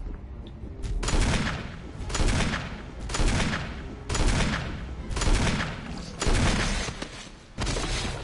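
Loud gunshots in the video game Resident Evil Remake, six heavy booming shots spaced about a second apart, each with a long decaying tail.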